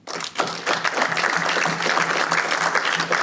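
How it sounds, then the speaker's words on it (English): A theater audience at an annual community foundation impact celebration bursts into applause after a brief pause, close, lively clapping that holds steady throughout with a faint low hum beneath. "you deserve a big round of applause"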